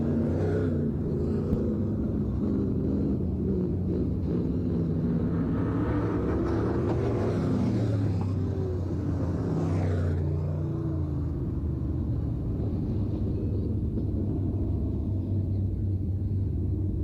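Race cars circle Thunder City Speedway in a continuous low engine rumble, with one car's revs rising and falling past mid-way before the sound settles back to a steady drone.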